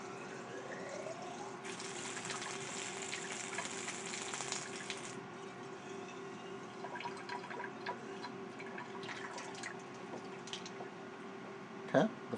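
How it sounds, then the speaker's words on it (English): Reagent blank solution is poured through a pour-through cell in a wastewater chloride test, a steady trickle and gush of liquid over a faint tone, with small ticks and a brief knock near the end. "we'll pour the reagent blank solution through the pour-through cell"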